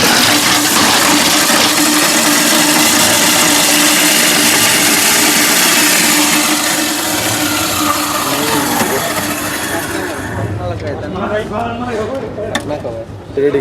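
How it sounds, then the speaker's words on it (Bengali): A multi-purpose vegetable cutter and chopper runs with its lid on while chopping hard vegetables, giving a loud, steady motor whine and rattle close by that cuts out near the end. A voice talks over it. "ঢাকনা দিয়ে সব থেকে হেভি মেশিনটা আমরা এখন চালিয়ে"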